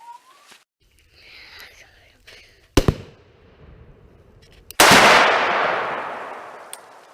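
Firework bursting at a family New Year celebration: a loud close bang followed by a long crackling hiss that fades out, preceded by a sharp pop and faint whispered voices.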